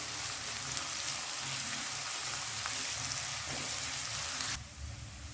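Chopped onion, ginger, garlic and green chillies fry on a high flame, giving a steady, dense, rain-like sizzle that holds evenly and then drops quieter near the end.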